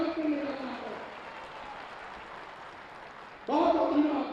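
A crowd at a mass wedding ceremony in Ayodhya applauds the Chief Minister; a fairly soft, diffuse patter of clapping sits between stretches of someone speaking over a public address system.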